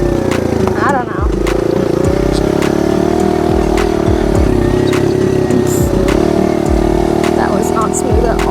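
A small off-road motorcycle, a Rawrr Mantis Mini R or Kawasaki KLX110R, drones loudly and steadily up close as it rides over bumps, with rattles and thumps from the rough ground and a rider talking over the engine.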